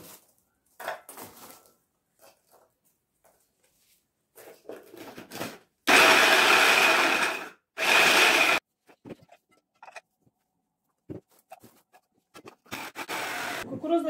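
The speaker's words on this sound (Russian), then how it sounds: "измельчаем их в блендере." A blender grinds corn sticks for candy in two loud, roaring bursts of about two seconds each, with scattered clicks and handling noises before and after.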